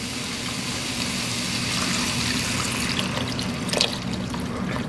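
Liquid pours steadily into a cooking pot for gumbo base in a continuous splashing trickle, close by, with no talking.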